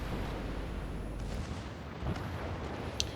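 Torpedo hits exploding against a warship in a naval video game, a dense, loud rumbling blast that sustains as a low roar with scattered sharper cracks.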